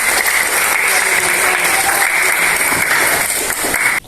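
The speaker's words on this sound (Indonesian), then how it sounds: "Ya, beri tepuk tangan buat" Loud applause from a classroom audience during an Indonesian teaching practice session, dense and sustained clapping close to the microphone that stops abruptly at the end.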